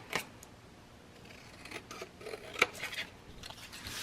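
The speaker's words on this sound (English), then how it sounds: "I'm going to cut those out just with my scissors" Scissors snipping out paper pieces for a DIY divided tray, a few faint close cuts with small rustles of paper, the sharpest snip near the middle, no talking.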